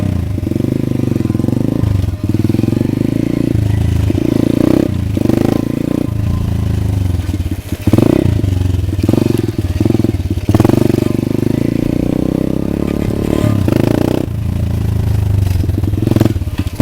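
A pit bike engine runs loudly and close by after its exhaust insert was removed, with an uneven, revving putter that rises and dips throughout and no talk.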